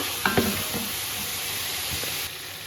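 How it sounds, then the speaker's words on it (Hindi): Chilli powder and garam masala frying in a pan for chicken tehri, a steady close sizzle running throughout with a few soft stirring scrapes near the start and again toward the end. "अभी थोड़ा सा ये मिर्च और गरम मसाले को इसके साथ भून लूँ।"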